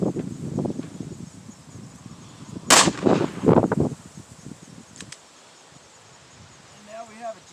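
A pistol fires a quick pair of sharp shots during a budget shooting drill outdoors, then insects buzz softly in the quiet that follows.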